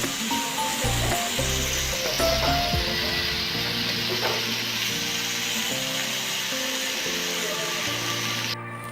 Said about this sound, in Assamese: আৰু অলপ সময় ভাজি থাকিম।